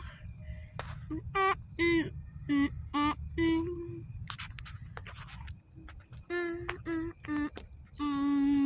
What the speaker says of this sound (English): There's a little cricket on the floor.